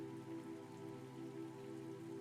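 Steady rain falls on a dark summer evening, a soft, even hiss of drops that stays faint and unbroken beneath a low, sustained musical drone.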